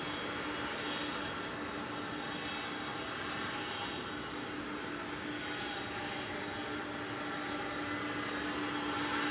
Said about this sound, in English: Let us catch a glimpse here of the big Dreamliner going to Sydney.